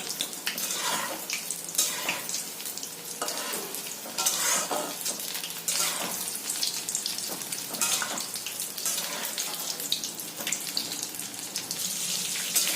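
Soya chilli pieces with chilli frying steadily in a pan of hot oil, a continuous close sizzle with occasional stirring scrapes and clinks throughout, no talking.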